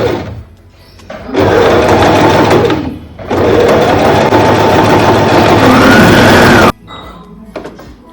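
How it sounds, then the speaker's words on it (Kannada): Sewing machine running a zigzag stitch along a princess-cut blouse border, loud and close, in two long whirring bursts with a short pause between and quieter handling sounds after. "ಇವಾಗ ಈ ಥರ ಅಲೈನ್ ಮಾಡಿಕೊಂಡು ಜಿಗ್ಜಾಗ್ ಮೆಥಡಲ್ಲಿ ಸ್ಟಿಚ್ ಮಾಡಬೇಕು."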